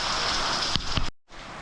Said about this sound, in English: the rain is just pouring off the roof there